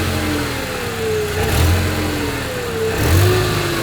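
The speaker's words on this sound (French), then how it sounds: "Ah mais un petit coup de gaz." A car engine is blipped twice with the throttle during a diagnostic check, each rev rising from a steady idle and falling back, loud and close with no talking.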